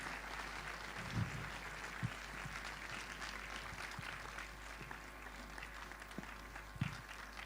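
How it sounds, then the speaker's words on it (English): Steady audience applause, a dense wash of clapping at moderate distance with a few louder thumps, continuing throughout. "Let's all give them a roaring round of applause."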